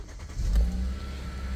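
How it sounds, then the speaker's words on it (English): The 1.6 engine of a 2017 Kia Sportage starts up: a quick cranking surge that catches into a steady, close idle hum within about a second. "And if I start the car up"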